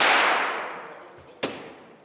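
Starting pistol at a firefighting sport competition in Yakutsk: a loud bright crack at the start decaying into a long echoing tail, followed by a second sharp, fainter report about a second and a half later.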